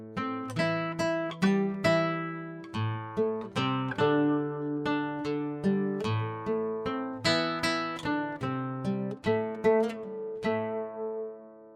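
Acoustic guitar plucking the main refrain of a Malian melody in octaves, with a steady looping rhythm of bright picked notes over ringing bass, played alone at close range.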